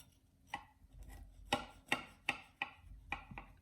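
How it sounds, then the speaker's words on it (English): A knife chops through cornbread for vegan soul food, about seven sharp, separate cuts against the pan or board at an uneven pace, close and fairly quiet with no talk. "A cornbread cutting knife."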